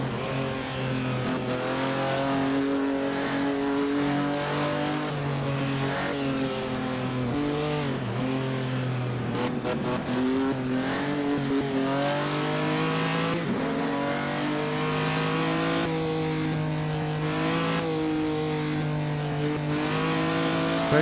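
A 1948 Grand Prix race car in Assetto Corsa at Naples drones at full throttle, its engine note rising and falling steadily through gear changes over about twenty seconds, loud and continuous with no talk.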